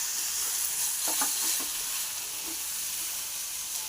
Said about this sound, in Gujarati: આને પણ 1 મિનિટ સુધી આપણે ધીમી આંચે શેકી લઈશું